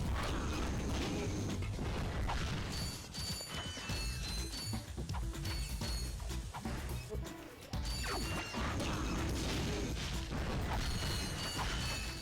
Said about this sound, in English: there's the lift I would have taken